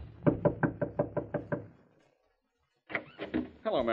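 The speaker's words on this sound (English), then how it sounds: "as he knocks on Mary Wesley's door" Knocking on a wooden door, a quick series of seven firm raps, a short pause, then more knocks overlapping a voice that starts speaking, in an old radio drama.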